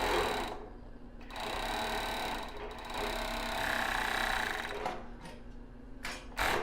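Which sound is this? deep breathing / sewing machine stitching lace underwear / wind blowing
sewing machine stitching lace underwear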